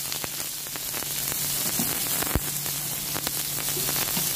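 Chopped onions stir-fry in a little oil in a pan, a steady loud crackling sizzle with scattered pops and a few utensil scrapes, close and continuous without talk.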